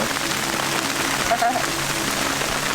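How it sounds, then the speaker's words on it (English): Hail-like snow pellets pelt a tent in light wind, a dense, steady pattering hiss on the fabric throughout, with brief speech partway through. "the snow's belting into the tent with a little bit of wind"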